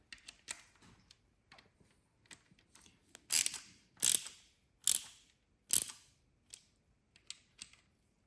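A ratchet clicks while tightening the camshaft chain on a Porsche 911 engine, four loud, sharp close ratcheting strokes in a row amid softer scattered ticks in a quiet workshop.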